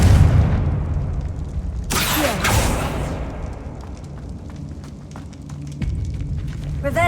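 A Confringo fire spell bursts with a loud broadband blast in Hogwarts Legacy, followed by a crackling, rumbling decay and a smaller second burst near the end.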